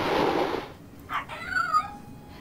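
A short video game cat meow rises and falls after a burst of noise, followed by a second, thinner meow, fairly close and clear.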